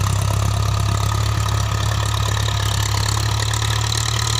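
A Ford 6610 tractor engine runs at a steady idle close by, a continuous low diesel throb with a faint knocking rhythm, loud and unbroken, with no talk over it.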